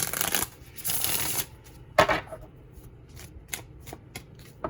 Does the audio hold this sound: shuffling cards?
yes